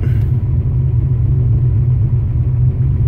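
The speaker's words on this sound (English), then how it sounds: "that's after the car gets warmed up and you start it again after warm up" A turbocharged Fox-body Mustang engine, restarted after warming up, idles with a steady, loud low rumble that holds even and close throughout.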